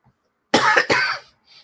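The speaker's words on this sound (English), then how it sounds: "I got a bit of a cough" A man with cancer coughs twice in quick succession, close and sharp against an otherwise quiet room, the second cough trailing slightly longer.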